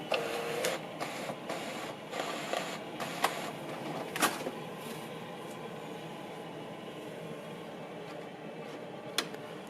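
An IKEA Mörliden gallery photo printing on a home printer, with a steady mechanical whir broken by several sharp clicks and feed clunks, fairly quiet and close, no talking.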